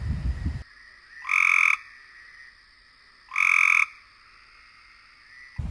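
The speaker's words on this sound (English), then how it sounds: "Cope's gray tree frog." Two short, buzzy trills from a Cope's gray tree frog, each about half a second long and separated by a pause, ring out clearly against a quiet background.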